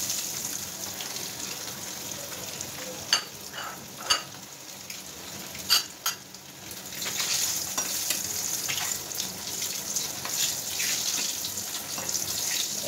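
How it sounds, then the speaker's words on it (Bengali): Eggs frying in a pan with only turmeric added, a steady soft sizzle with a few sharp clinks and stirring scrapes near the start, no talk. "আমি কিন্তু ডিমটা মানে একটু ভেজে নেই শুধু হলুদ দিয়ে"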